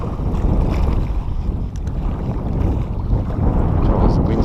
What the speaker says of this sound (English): As the wind's blowing in my face